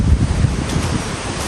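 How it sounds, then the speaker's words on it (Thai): Strong wind buffeting an outdoor microphone in Thailand, a steady loud low rumble with gusty roar throughout and no talk. "แต่ไม่รู้ทุกคนได้ยินหรือเปล่านะเพราะลมแรงมากเลยนะครับ"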